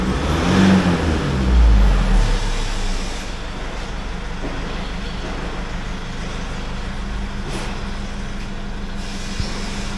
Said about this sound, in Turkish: Abi gaz ver biraz.